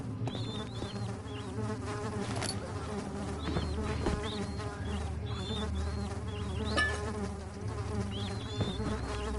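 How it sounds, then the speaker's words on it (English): A buzzing fly in the horror game Amnesia: The Dark Descent drones on continuously and up close, wavering in pitch over a steady low ambient rumble, with no voices. "that buzzing fly sound is so pleasant"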